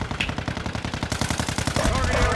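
A rapid, steady burst of automatic gunshots in Warzone 2, evenly spaced and close, fired in one sustained string that ends in a louder thump.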